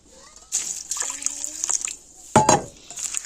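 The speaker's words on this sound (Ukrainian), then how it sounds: "Заливаємо холодною водою." Cold water is poured over dandelion stems in short splashing bursts, close by, with a louder gush near the end and small clinks between pours.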